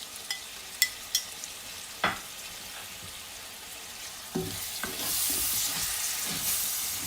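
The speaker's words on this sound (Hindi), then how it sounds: "अभी से हम थोड़ी देर के लिए भूनेंगे" Chopped green chillies and masala hit a hot pan for a mixed vegetable dish, starting with a few sharp clatters and scrapes, then swelling into a steady sizzle that grows louder over the final seconds.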